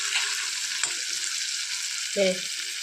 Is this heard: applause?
no